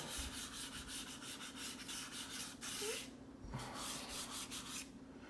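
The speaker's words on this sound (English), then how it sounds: "we're just going to take your hands and gently rub your fingers across there" Fingers rubbing across a charcoal drawing on paper to blend the shading, a close, soft, continuous scratchy rubbing with steady back-and-forth strokes and a couple of brief pauses.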